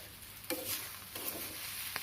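Onions fried in a pan in a village kitchen, with a soft sizzle and a couple of brief stirring scrapes, close and fairly quiet with no talking.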